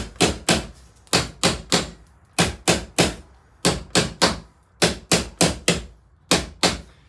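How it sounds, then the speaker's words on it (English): Light hammer taps on the axle nuts of a Kaabo Wolf King Warrior GT electric scooter, seating the axle during a tubeless tire change: close, sharp knocks in quick clusters of two to four, repeated about fifteen times with brief pauses. "put the axle nuts just on a little bit. That way I can tap on it and not hurt the threads. And I'm just going to tap a little bit on each side."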